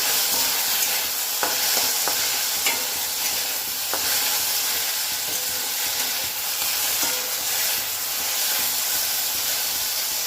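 Chopped taro stolons fry lightly with turmeric in a pan, a loud, close, continuous sizzle and steamy hiss with occasional faint spatula clicks throughout.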